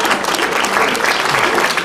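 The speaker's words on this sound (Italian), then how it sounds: "vi prego di accogliere con un caloroso applauso" A festive gathering's audience breaks into warm applause to welcome an honoree, a loud, dense, even roar of clapping close by with no break.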